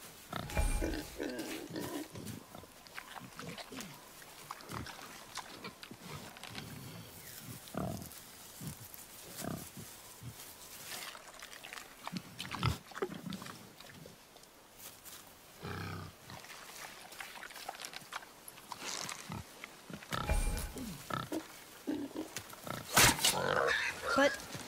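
Deep, rough grunts and snorts from a boar in the game God of War, arriving in uneven bursts between quieter gaps, moderately near, with a voice speaking in places.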